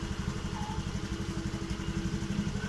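A Honda Vario scooter engine runs at idle close by, its rapid even pulsing putter and faint mechanical clatter holding steady without revving.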